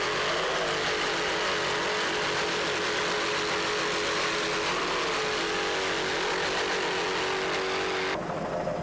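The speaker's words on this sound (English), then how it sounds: "Those Zool Racing engines are doing their job." Zool Racing powerboat engines roar during a powerboat race, a sustained, steady, high-pitched whine heard from some distance with no talking, cutting off abruptly near the end.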